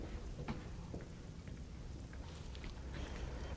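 Steady rain falling, a dense continuous hiss with scattered drops, no voices.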